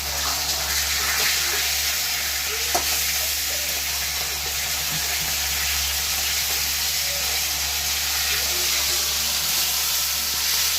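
A continuous, even sizzle of a fish head frying in a pan, close by and steady, with a faint clink partway through.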